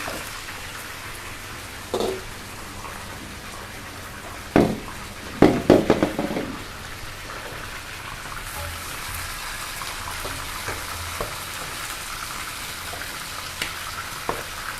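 Pieces of chicken frying in a small amount of reused oil for a Madras chicken curry, a steady close sizzle and crackle with a few sharp clattering knocks from a pan or utensil early on.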